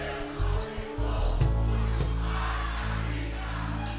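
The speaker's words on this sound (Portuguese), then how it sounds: "eu quero que vocês gritem em alto e bom tom agora" Church congregation during a Portuguese-language sermon shouting loudly together, a sustained crowd roar with a heavy low rumble underneath that holds for several seconds without a clear single voice.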